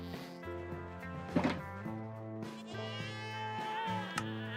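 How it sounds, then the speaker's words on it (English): Screaming goats in Minecraft Bedrock let out loud, wavering, strained bleats in quick succession, some overlapping, with a few thumps in between, fairly close and filling the short stretch. "Screaming goats."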